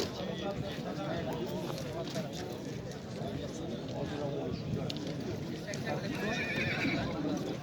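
At the Khalmion livestock market a horse or foal whinnies among a busy crowd, with hoof clip-clops and people talking throughout, the neighs partly buried in the steady chatter.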